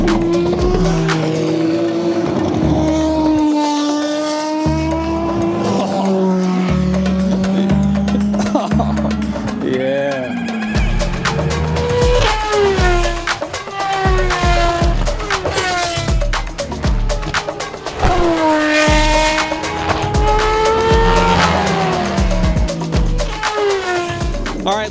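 An Aston Martin Valkyrie race car on track in Qatar, its harmonic engine note rising and falling through repeated revs and gear changes. It sounds loud and continuous for the whole stretch, with no clear speech.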